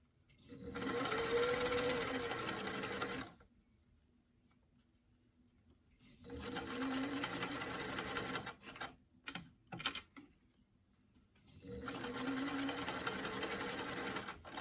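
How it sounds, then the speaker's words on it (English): A home sewing machine runs a 2 to 3 stitch along a doll dress seam in three long bursts of steady whirring, the middle one broken by short stops and starts, with quiet pauses between them. "I'm using a 2 to 3 stitch on my sewing machine"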